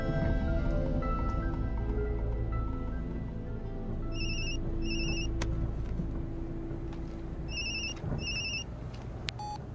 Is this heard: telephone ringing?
yes